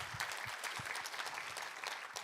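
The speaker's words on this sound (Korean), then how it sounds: "우리 하나님께 감사와 영광의 박수 올려드리겠습니다" A church congregation applauds during a worship service, a faint, steady patter of many hands clapping together at a distance.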